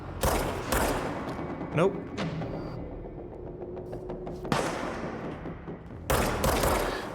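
Bursts of gunfire in the video game Control, loud broadband volleys at the start and end with sharp single shots between, under a voice talking.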